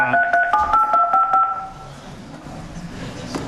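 A telephone keypad beeps out a quick run of dialing tones, about eight short, clear presses close by, followed by quiet room tone in a meeting room.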